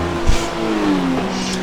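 Race cars in a GT3 racing video game, one overtaking at Canadian Tire circuit, a steady engine drone with a rising then falling pitch sweep as it pulls past, loud and continuous.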